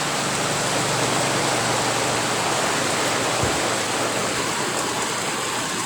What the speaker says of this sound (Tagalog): Biglaan umulan.